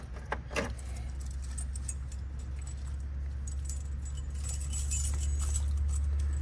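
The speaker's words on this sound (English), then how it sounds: "3 keys on here. I gotta hit the right one eventually." Keys jingle and clink together on a ring, a steady close rattle over a low engine hum from a 1965 Buick Wildcat 425 dual-quad muscle car.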